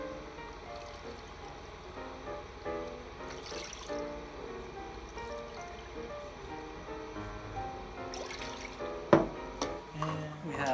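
Water pours into a measuring cup in a kitchen, a soft continuous trickle and fill under faint background hum, ending with a few light clinks of glass or utensils.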